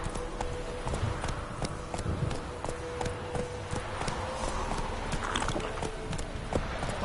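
Roach, the horse in The Witcher 3, gallops with a steady rhythmic drumming of hooves, close and continuous, over a dense game background with faint rustling.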